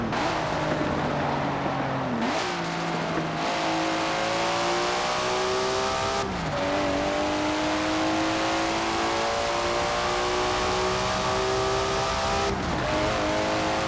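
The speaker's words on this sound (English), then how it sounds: "Now the audio file that they actually used is not that great. It sounds like a Porsche, not an RB motor" A car with an RB engine in Forza Horizon 4, its note closer to a Porsche flat-six, revs up steadily through the gears, each upshift dropping the pitch before it climbs again, loud and alone.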